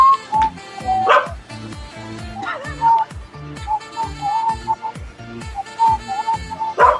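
Dogs bark repeatedly in short, loud, close bursts with uneven rhythm, with some yips and whimpers in between.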